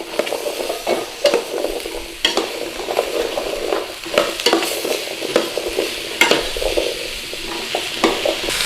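Chilies, squash and carrots sizzle in a hot pan while a utensil stirs them, scraping and clacking in irregular bursts over a steady frying hiss, close and fairly loud.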